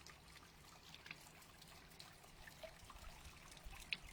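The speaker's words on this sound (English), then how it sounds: "my fountain's going" A garden water fountain runs outdoors, giving a steady, soft trickle and splash of falling water with faint scattered outdoor sounds and no talk.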